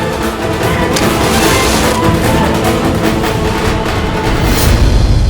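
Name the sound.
loud explosion sound effect in TV drama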